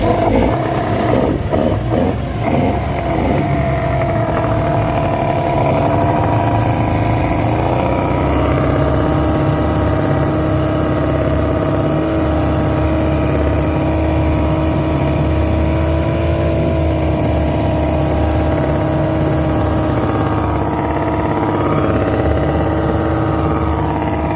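An engine that has just been started idles with a loud, steady hum and low rumble that holds evenly throughout, with no voices.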